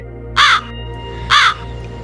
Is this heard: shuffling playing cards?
no